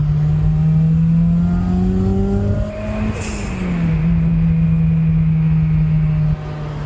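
A 2005 Honda S running on E85 and fitted with a short shifter accelerates hard through the gears. The engine note climbs steadily, drops at a quick upshift and rises again, loud and close over steady road noise.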